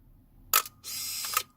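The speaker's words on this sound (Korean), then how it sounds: "셔터 누르면은 이렇게 깜빡깜빡거리다가 촬영이 돼요." A Canon Sure Shot AF-7 compact film camera firing after its self-timer: a sharp shutter click, then a brief pause and a half-second motorised whirr of film advance, close and clear in a quiet room.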